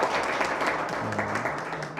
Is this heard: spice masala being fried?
no